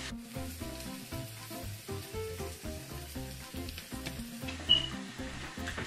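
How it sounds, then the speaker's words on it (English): Babybel cheese being grated by hand in a kitchen for mac and cheese, a steady rasping scrape that continues throughout under louder rhythmic background music. "Grating away."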